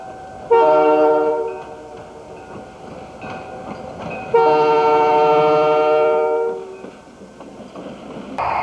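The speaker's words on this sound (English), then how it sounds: "Notice the big Alco Montreal Locomotive Works and the RS-18, the little guy, and the GATX SD40." An Alco RS-18 and a GATX SD40 locomotive roll past, sounding two long, loud horn blasts over a steady rumble of wheels and engines.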